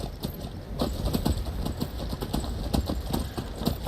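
Horse hooves galloping in the fantasy video game Skyrim, a fast, steady clip-clop rhythm of thuds close by, with no talking over it.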